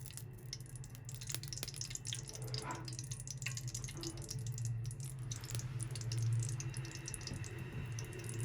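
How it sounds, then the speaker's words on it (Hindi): About 400 grams of ghee pours into a kadhai for sooji besan halwa, a steady close trickling stream of liquid with no talk over it. "ये मेरे पास 400 ग्राम घी है, ये डालेंगे।"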